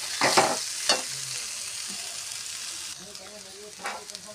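Vegetable fried rice stirred and mixed in a pan, with close scraping and tossing strokes over a soft sizzle that eases off midway.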